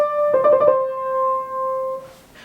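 A single Bach ornament, an appoggiatura with trill, played on a keyboard instrument: a held note broken by a quick flutter of alternating notes, then settling into a sustained tone that fades, close and alone.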